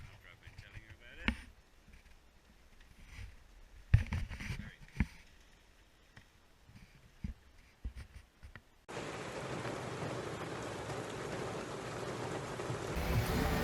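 Rain drums loudly and continuously on a vehicle while driving through Albania, starting abruptly partway through after a quieter stretch of knocks and thumps.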